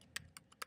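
Computer keyboard typing while entering code, a handful of quick, crisp key clicks in an irregular rhythm, close and fairly quiet.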